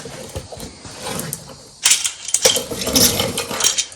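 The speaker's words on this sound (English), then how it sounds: "I'm not sure how many people have these duckbill pliers or ice grips, but I love them." Duckbill pliers clamp and work the outer rocker panel of a 1969 Coronet, giving scattered metallic clicks and scraping, quiet at first, then a louder, denser burst of crisp clanks and rattles in the second half.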